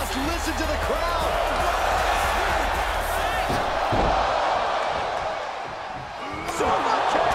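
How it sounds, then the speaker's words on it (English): A roaring arena crowd cheers through a men's Royal Rumble match in WWE 2K23, a loud, sustained wash of noise that dips briefly and then swells again, with commentary voices running underneath. "Listen to the crowd!"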